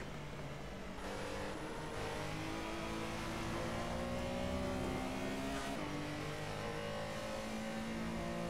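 Porsche Carrera Cup race car in a racing video game, blipping through a sloppy downshift without matching throttle: steady loud engine drone with shifting revs over the full stretch, no talking.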